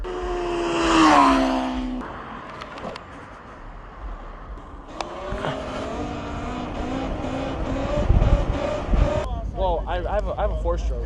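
An electric dirt bike flies past on a street, its whine rising and falling as it approaches and recedes, loud and close, with voices talking around it.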